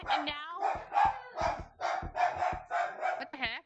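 A dog barks and yips in the room during a Gorilla Tag game session, several short sharp barks mixed with a person talking over them.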